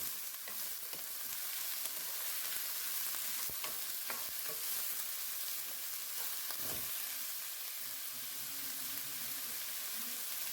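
Chicken and kale cook-up rice stirred in a pot: steady sizzling and bubbling with scraping spoon strokes and occasional knocks, continuous and close, no talking.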